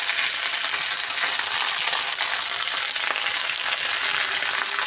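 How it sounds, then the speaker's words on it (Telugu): Curry leaves fry in a little oil, giving a loud, steady, dense sizzle that crackles continuously without pause. "కొంచెం ఆయిల్ పోసానండి. కరివేపాకు వేపించేసుకుందాం."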